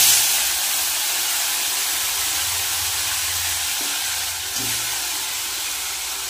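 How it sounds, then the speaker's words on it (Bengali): Crabs coated in salt and turmeric fry lightly in hot oil, giving a steady broadband hiss and sizzle that holds close and even throughout, with a couple of faint clicks near the end. "এবার আমি কাঁকড়াগুলো হালকা ভেজে নেব।"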